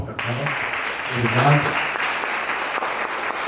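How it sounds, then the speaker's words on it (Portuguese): An audience at a Christian entrepreneurs' evening breaks into a dense, steady round of clapping that carries on throughout, with a voice speaking briefly over it near the start. "Salva de palmas."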